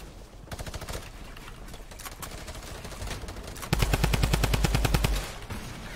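Rapid bursts of automatic gunfire ring out in a shooter video game during a tournament match, with crisp repeated shots and a heavier, louder volley near the end.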